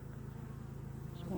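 Honey bees drone steadily inside a hive with young bees, a low, even buzzing hum that is fairly faint and close.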